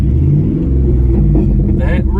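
A truck engine idles and revs loudly and steadily as a kid learning to drive eases off the clutch, a low rumbling drone throughout with a voice talking over it near the end.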